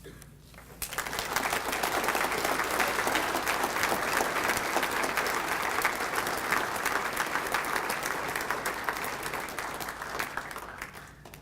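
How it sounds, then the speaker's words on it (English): Audience in a ceremony hall giving a big, sustained round of applause for Hall of Fame inductees, dense clapping that swells up after a brief quiet start and carries steadily to the end. "how about one more big round of applause for our 27th class into the Hall of Fame"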